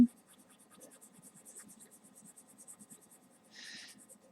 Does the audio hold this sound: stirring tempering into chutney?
no